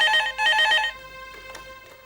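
A telephone rings nearby with a loud, bright electronic trill that cuts off after about a second, leaving a fainter tail of tones.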